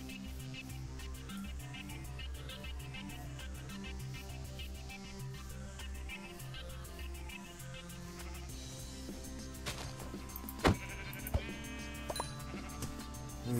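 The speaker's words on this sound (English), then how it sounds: "There's a sheep, so I can make the frame." Sheep bleating in Minecraft, a few short bleats over a bed of looping game music with repeating low tones, plus a couple of sharp clicky effects near the end.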